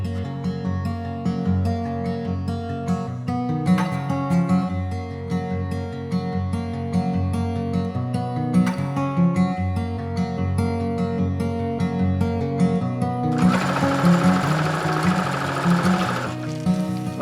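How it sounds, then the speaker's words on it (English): A sewing machine stitching binding down over the folded edge of an RV window blind, a steady close mechanical whirring hum with a rapid needle rhythm that runs continuously, briefly joined by a brighter rustling burst near the end. "I'm now folding the binding over the edge"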